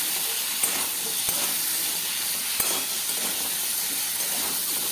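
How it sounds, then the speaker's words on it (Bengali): Drumsticks and potatoes with turmeric and chili powder sizzle steadily in a pan, a dense continuous frying hiss with a few faint stirring knocks, close and even throughout. "সজনে ডাঁটা দিয়ে একটু ভালো করে কষিয়ে নিচ্ছি।"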